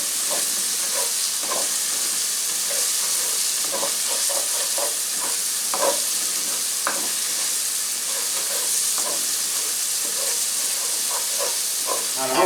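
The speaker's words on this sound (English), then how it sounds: "once we get the garlic browned down a bit, we're going to go ahead and we're going to add some flour to this" Flour being stirred into browned garlic sizzling in a pan for meatball stew: a constant bright sizzle runs throughout, with repeated close scraping and clacking strokes from the stirring.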